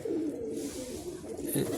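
Pigeons in a corner loft give a quiet, continuous low cooing murmur, soft and steady with no talk over it.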